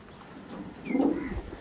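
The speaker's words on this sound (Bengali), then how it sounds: "খুবই সুন্দর কোয়ালিটি দেখুন, প্রচুর বড় পায়রা আর প্রচুর চওড়া পায়রা বন্ধুরা" A single soft cooing call from a large, broad-chested Kaldoma pigeon, faint and brief against a quiet background.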